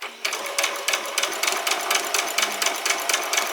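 A sewing machine runs a dress seam in quick, steady bursts of stitching, each burst separated by short pauses, close up and alone with no talk.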